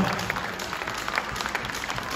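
Applause for junior dance semifinalists at a ballroom competition in Minsk, a dense steady clapping from a large audience, evenly sustained across the whole moment with no voices over it.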